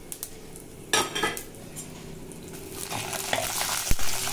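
Chana dal, urad dal and cumin drop into hot peanut oil in a pan for tomato chutney, giving a soft, close sizzle with light scraping and clinks of a spoon against the pan.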